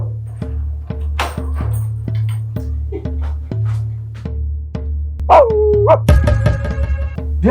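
Dog barking in a house, heard as a series of faint, distant barks beneath a loud, rhythmic pulsing background of music, with a louder cry and clatter near the end.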